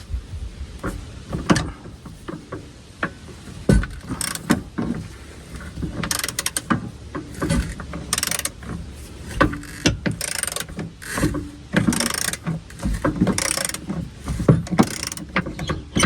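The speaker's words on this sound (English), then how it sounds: "When your impact gun doesn't work, get yourself a nice long leverage with a socket." Breaker bar with a long handle and socket straining on rusty bolts of a Jeep Wrangler JL rear bumper, with repeated metallic clicks, creaks and sharp knocks in irregular bursts, close and fairly loud.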